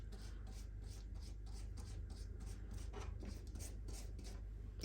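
Pastry brush dabbing egg wash onto frozen pain au chocolat, a soft rhythmic rubbing of repeated short strokes, quiet and close, over a low steady hum.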